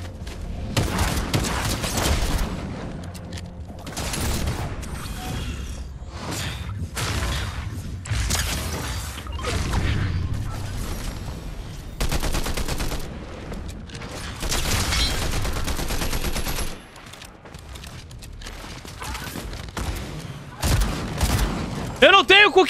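Video game gunfire cracks out in rapid bursts and volleys with short pauses between them, loud and close, while someone talks excitedly over much of the action.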